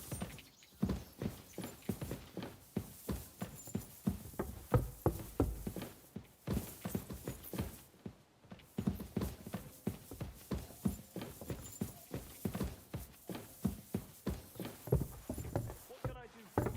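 Horse hooves clip-clop steadily at a walking pace in the video game Kingdom Come: Deliverance II, a continuous rhythmic clatter that runs with only a brief pause.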